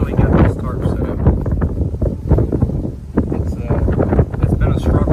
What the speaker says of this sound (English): it's 20-30 mile an hour winds